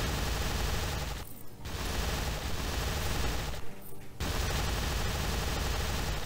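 A minigun in the video game Starbound fires in long, dense, rapid bursts, loud and continuous, broken by two short pauses.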